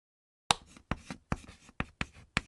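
Values being written into a table by hand during a string pendulum experiment: six short, quiet scratching strokes spaced about half a second apart, each starting with a sharp onset and fading quickly.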